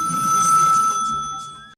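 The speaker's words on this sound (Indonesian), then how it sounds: "Malam harinya, Lefty menerima sebuah panggilan telepon." A telephone rings loudly and close by in a single short electronic ring that fades out, part of a mafia drama scene, with no voices over it.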